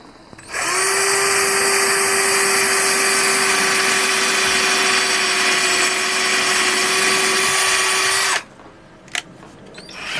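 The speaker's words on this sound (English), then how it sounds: "Now we've got another 2mm drill bit, and we're going to put it in our drill." An electric drill fitted with a 2mm bit bores through two parts in one steady, loud whine lasting about eight seconds, then cuts off abruptly, leaving faint handling clicks.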